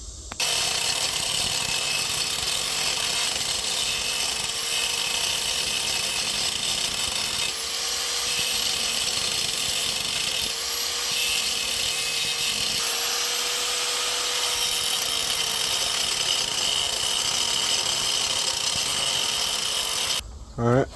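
A power tool roughs up the wood of a handmade gunstock war club so epoxy will grip, giving a steady, loud, continuous grinding whir that runs almost unbroken with slight dips and cuts off at the end.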